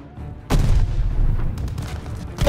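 A grenade blast followed by sustained gunfire in Call of Duty: Vanguard, set in a desert battle; a loud boom hits sharply, then a rolling barrage of shots continues close by, with another blast near the end.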